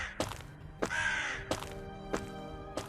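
Crows caw in a forest setting, five or six loud, harsh calls spaced roughly half a second to a second apart, one drawn out longer than the rest, with a faint steady hum underneath.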